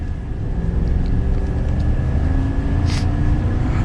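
A 2022 GMC Sierra 2500 HD AT4 pickup truck accelerates, heard from inside the cab as a steady, smooth low drone of engine and road rumble that builds only slightly, with a brief hiss near the end.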